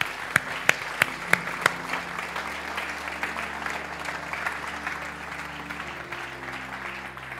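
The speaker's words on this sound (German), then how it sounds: "Komm, wir geben Ihnen einen herzlichen Applaus." Warm audience applause after a community talk, a few sharp nearby claps at the start giving way to steady, fairly soft clapping from the room that keeps going to the end.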